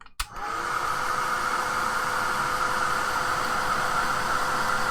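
A heat tool or hair dryer blows steadily on wet paint in a Bible journal page, switching on with a click and holding a loud, even whoosh throughout.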